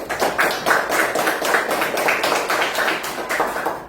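Schoolchildren in a classroom clap for a classmate, a steady, fairly quick rhythm of many hands in unison, moderately loud and close, with no talk over it.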